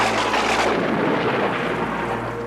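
Thunderstorm setting in within an animated series about woodland animals: a loud, continuous wall of rumbling thunder and heavy storm noise with no letup, no voices over it.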